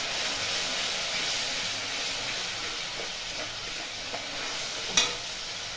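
Cauliflower korma masala with two spoons of sour yogurt stirred and fried in oil in a pan, a continuous close sizzle and hiss with soft stirring scrapes and a brief louder clink near the end.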